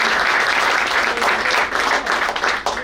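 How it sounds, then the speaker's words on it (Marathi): A crowd at a tenth-standard class reunion gathering applauds to welcome its teachers, loud dense clapping close by and sustained throughout. "अशा सर्व आपल्या गुरुजनांचं आपण सगळ्यांनी एकदा टाळ्या वाजून स्वागत"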